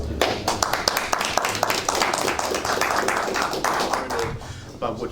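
Audience applause at a live solo jazz gig for saxophonist Jerome Sabbagh in Paris, a dense, steady clapping from many hands that carries on throughout and thins slightly toward the end.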